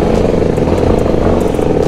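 Yamaha XT250 motorcycle revving hard on an off-road trail ride, a loud continuous engine roar with rattling clatter, heard up close with no talk over it.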